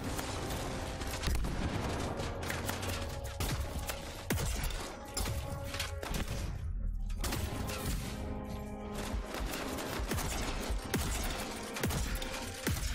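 Rapid, chaotic weapon fire in the Anthem video game, with shotgun blasts among dense bursts of shots, metallic impacts and mechanical clatter, continuous and loud throughout a busy combat mix.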